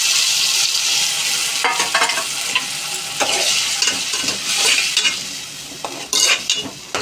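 Ginger garlic paste and tomato puree frying in a pan for a fish curry, a steady bright sizzle with repeated scraping stirs of a utensil against the pan, close and continuous.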